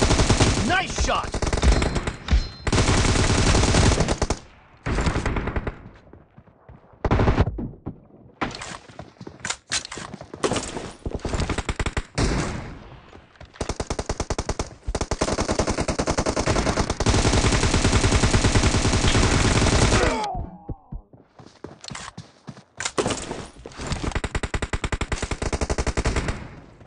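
Rapid bursts of automatic gunfire in a PUBG Mobile team deathmatch, loud and close, firing in long sustained strings broken by short pauses, with no talking.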